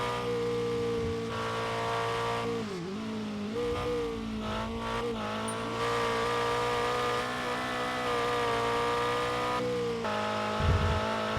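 A ute engine in the racing game RevHead revs steadily through the gears, a loud continuous drone whose pitch climbs and drops with each shift, heard alone without talking.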